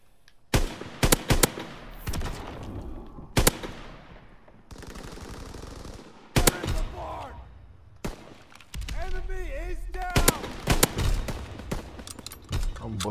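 Carbine gunfire in the World War II shooter Call of Duty: WWII, with loud sharp shots cracking in irregular bursts and clusters amid game noise, while someone talks excitedly over the action.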